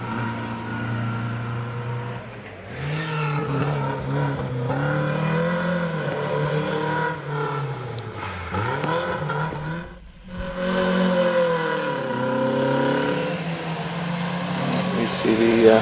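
Peugeot pickup rally car sliding sideways up a hillclimb, its engine droning and revving hard with rising and falling pitch, a brief dip near the middle, loud and close with a voice talking over it.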